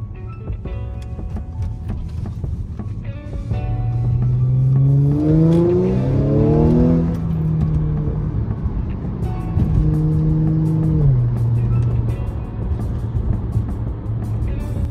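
A 2013 Audi S5 B8.5 with a 3.0T supercharged V6 cruising on the road, engine droning steadily and then rising through revs in two pulls, with shifts between them, loud and close from inside the cabin.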